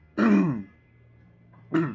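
Two short, throaty coughs close to the mic, separated by a pause of about a second and a half, otherwise quiet.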